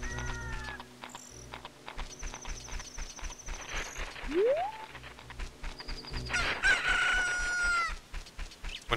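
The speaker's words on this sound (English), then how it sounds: "You hear the rooster, then you know everyone's awake." A rooster crows in the video game Ocarina of Time, a loud drawn-out cock-a-doodle-doo standing out over busy game sounds, quick effects and a rising swoop, with no talking.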